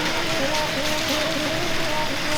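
Steady rain pours down in a dense, even hiss that fills the whole stretch, with a faint tonal hum running underneath and no clear voices.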